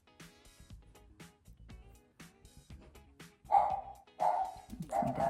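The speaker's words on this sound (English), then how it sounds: "That's my doggy Lola." A small dog barks several times in quick succession indoors, the barks loud and close after a few seconds of quieter household sound.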